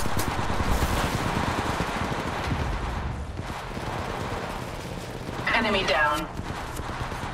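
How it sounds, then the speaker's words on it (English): Automatic gunfire rattles in the mobile battle royale game Apex Legends Mobile, dense and continuous bursts at close range, with a brief electronic voice line partway through. "We're taking fire."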